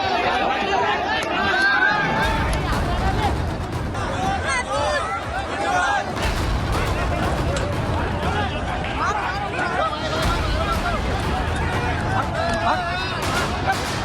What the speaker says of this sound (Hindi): ओवैसी की रैली में भगदड़